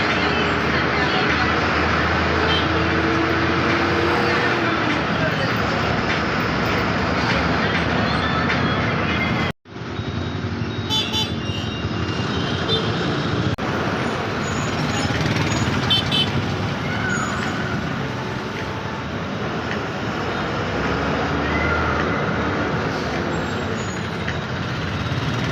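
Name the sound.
riding a bus in Kollam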